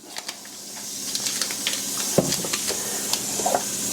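A tablespoon of butter sizzles in a hot skillet for cheeseburger soup, a steady close hiss and crackle with scattered pops and a small clatter partway through.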